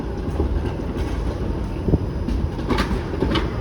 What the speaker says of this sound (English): And this is the Bombardier streetcar.